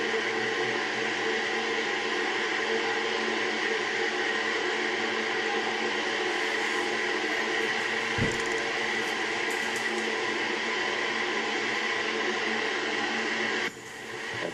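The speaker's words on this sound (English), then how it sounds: "That sound you're hearing, nitrogen being purged from the vehicle." Nitrogen purging from an Antares rocket on its launch pad at Wallops Island: a steady, broad hissing rush that holds level throughout, with a brief low thump midway and a change in the noise near the end.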